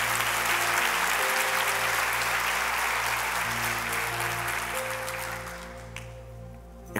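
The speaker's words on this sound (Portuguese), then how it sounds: "Você podia aplaudir a Jesus pela vida de Ezequias." A church congregation applauds loudly and steadily during a Portuguese-language sermon, dense clapping that fades somewhat near the end, with sustained organ or keyboard tones underneath.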